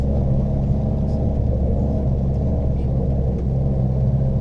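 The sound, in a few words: thunder rumbling during a thunderstorm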